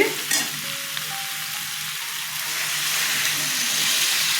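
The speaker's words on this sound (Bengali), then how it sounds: "কষানো হয়ে গেছে জল দিয়ে দিচ্ছি" Water poured into sautéed yam curry in a hot pan, a short clatter and then a rising, continuous sizzle and hiss that grows louder and stays steady.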